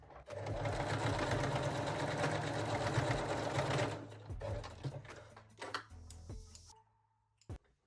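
A sewing machine back-stitches a bralette strap, running fast and continuously for about four seconds, then stopping and starting in shorter bursts before falling quiet.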